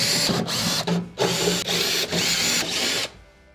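A power screwdriver backs Phillips screws out of the bottom panel of a Whirlpool microwave, sounding as several short whirring bursts separated by brief pauses, close and fairly loud.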